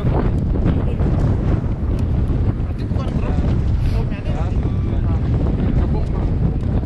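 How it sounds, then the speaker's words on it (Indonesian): Strong gusting wind high on Mount Agung, a loud, continuous roar battering the microphone that swells and dips slightly over several seconds, with no one speaking. "mengingat hembusan angin yang semakin kencang"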